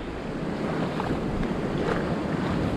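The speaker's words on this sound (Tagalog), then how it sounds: "Ayun, lakas ng alon, no?" Choppy river water during a rainy fishing outing, a continuous wash of waves lapping with wind rumbling across the microphone, moderately loud and steady with no voices.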